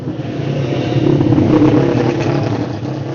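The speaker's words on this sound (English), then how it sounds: "Michael Lawton's got a 500cc Jawa on methanol" A 500cc Jawa racing motorcycle running on methanol drones loudly and steadily at close range, a rough mid-pitched engine roar that swells slightly mid-way, with no talk.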